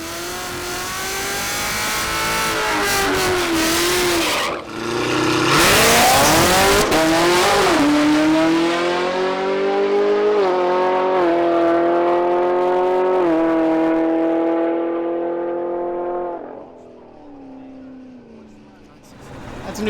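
A car's drag-racing run at the strip: a loud engine revs hard off the line, then climbs in pitch through several quick upshifts before fading as it pulls away.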